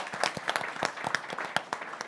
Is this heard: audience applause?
yes